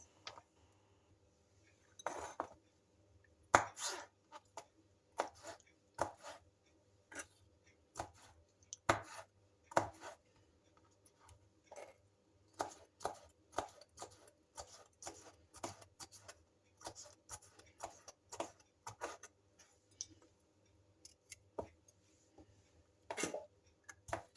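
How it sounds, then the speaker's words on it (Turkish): A knife chops gherkin pickles on a board in quick bursts of sharp, close taps, with brief pauses between runs and a low hum underneath. "Ve şimdi 2-3 tane kornişon turşuyu doğruyorum."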